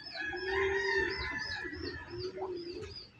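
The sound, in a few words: chicken clucking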